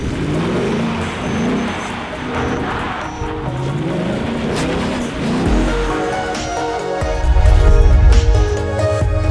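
A car drifting through a 180-degree spin, the engine revving and rising in pitch as the tires squeal, ending in a loud, close throaty burst of acceleration.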